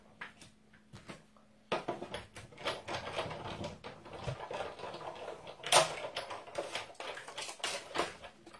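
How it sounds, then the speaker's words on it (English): A die-cutting machine running card through a contours die, with a steady grinding mechanical rumble and clicks after a quiet start and one sharp clack midway. "So I'll just quickly die cut that."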